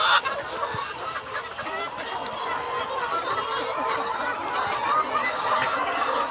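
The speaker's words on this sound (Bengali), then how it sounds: "2টা মিলে মনে হয় 1500 মুরগি আছে।" Hundreds of chickens cluck and chatter continuously inside a poultry farm, a dense, steady flock noise filling the whole span at close range, with a voice talking faintly beneath it.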